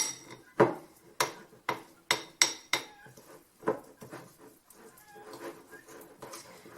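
Metal spoon clinking and scraping against a bowl while mixing homemade natural deodorant, a run of sharp, fairly close taps in an irregular rhythm, quieter stirring toward the end.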